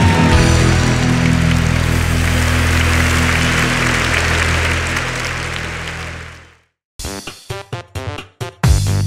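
Church congregation clapping together during a healing service, a dense sustained applause that fades out after about six seconds, followed by a few separate short knocks.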